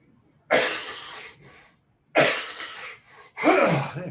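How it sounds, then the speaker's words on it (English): One person coughs three times in separate harsh bursts, each followed by a quieter rasping tail, with short silent gaps between them, close to the microphone during a recorded online statistics lecture. "I feel fine other than that cough."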